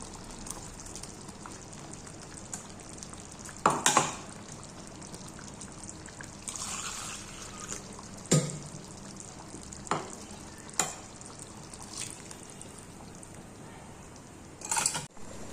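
Coconut is added and stirred into a simmering lentil curry, making a soft bubbling sizzle with several sharp spoon knocks and scrapes against the pot spaced across the stretch.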